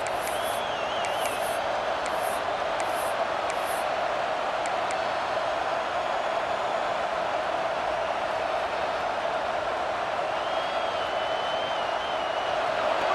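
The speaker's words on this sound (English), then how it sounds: "this crowd is coming to help the defense" Stadium crowd noise from the College Football 26 video game, a steady wide roar under whistles and brief chirps, continuous and fairly loud throughout with no clear peaks.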